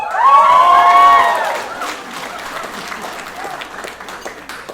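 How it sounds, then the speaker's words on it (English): Loud applause with cheering and whoops from an audience at a community action awards ceremony, a high shout rising over the clapping at first before the ovation settles into steadier, softer applause. "Clearly UMass Lowell has a cheering section"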